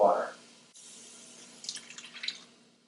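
Half a can of water poured into marinara sauce simmering on a very low setting gives a soft splashing, gurgling pour. A brief voice comes first, then a quiet pause before the pour.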